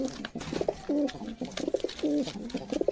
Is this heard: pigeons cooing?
yes